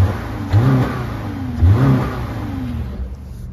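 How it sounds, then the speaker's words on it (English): Two quick revs rise and fall from the engine of a 2020 Subaru Impreza Sport, each a short, loud climb that settles back to a steady idle hum between them. "Let's listen to the motor one time."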